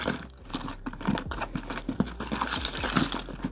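Keys jangle and clink near a Louis Vuitton toiletry case, in a close, irregular run of small metallic rattles and taps with no speech.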